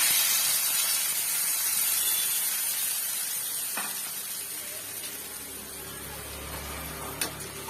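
Masala paste goes into a hot pan for Bengal gobi masala and sizzles, a loud, steady, close hiss and spatter that eases slightly as it continues.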